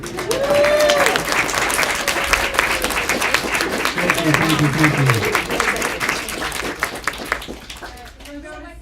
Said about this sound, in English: traditionally we clap first